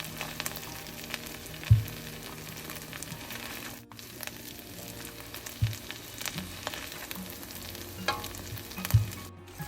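A utensil stirs thick foxtail millet thodhal in a pan over low heat with soft scraping and a faint sizzle, a few sharp clanks against the pan standing out amid the continuous stirring.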